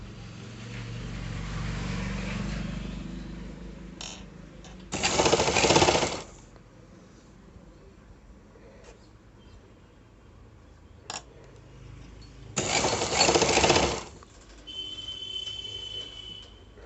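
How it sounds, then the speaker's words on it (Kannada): A sewing machine stitches the lining of a princess-cut blouse in two short bursts of rapid mechanical whirring, each about a second long, separated by quiet pauses with faint clicks of handling. "ಇವಾಗ ನಾನು ಲೈನಿಂಗ್ನ ಸ್ಟಿಚ್ ಮಾಡ್ತಾ ಇದ್ದೀನಿ"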